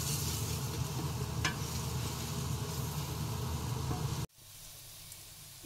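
A carrot and egg bhurji mixture seasoned with turmeric fries in a pan with a steady, close sizzle and faint stirring scrapes, then cuts off abruptly to a quiet room tone near the end.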